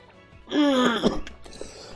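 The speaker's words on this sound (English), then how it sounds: "Pardon the coughs." A single harsh cough or throat-clearing from a streamer playing Super Smash Bros. Brawl's Subspace Emissary. It is loud and close, with a short gravelly burst and a brief catch after it, then quiet.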